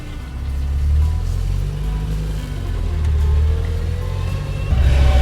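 A Toyota Chaser JZX100 with a swapped R154 manual gearbox and a suspect driveshaft, heard from inside while driving: a thin, steady whine rides over a loud, constant low engine and road rumble.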